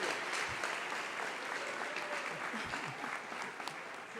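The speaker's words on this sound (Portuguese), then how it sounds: "Irmãos, pode aplaudir a Jesus" A church congregation applauds, a dense, continuous clapping from many hands at moderate distance, with faint voices mixed in underneath.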